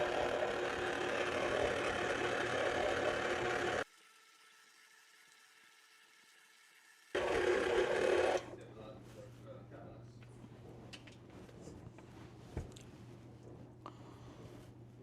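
An electric stand mixer churns sourdough dough in a loud, steady whirring drone, stops, then runs again for a short burst before the kitchen falls quieter with faint handling noises.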